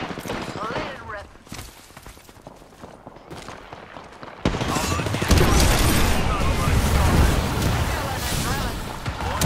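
Rapid bursts of automatic gunfire from the Apex Legends battle royale game, loud and close, growing into a dense sustained barrage in the second half, with a voice talking over the shooting.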